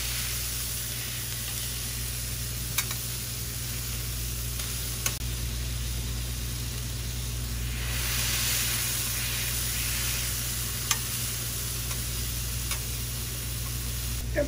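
A slider patty piled with onions sizzles loudly on a hot griddle, a steady close hiss with a few sharp clicks and no talking.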